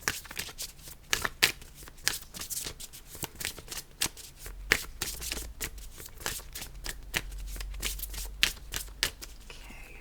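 A deck of cards is shuffled on a mat, producing a rapid run of crisp riffling bursts and flicks that repeat through the whole stretch, close and fairly loud with no talking.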